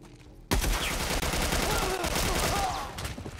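Sustained machine gun fire from The Last of Us game bursts in abruptly and hammers on loudly for about three seconds, a dense rapid rattle with faint talk underneath.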